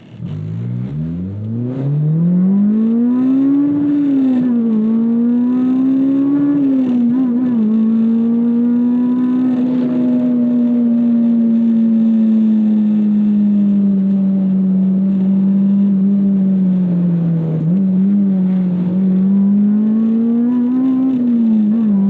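Honda K20Z3 engine swapped into a Mini Cooper JCW revs hard under full acceleration, a loud, steady rising drone that climbs through the gears with brief dips at each shift, heard from inside the cabin.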